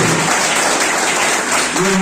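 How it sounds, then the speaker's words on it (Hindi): A classroom crowd applauds loudly for Ganesh sir at a Teacher's Day event, a continuous dense roar of clapping filling the whole moment, with voices mixed into the noise. "पहले तो गणेश सर के लिए जोरदार तालियां जोर से।"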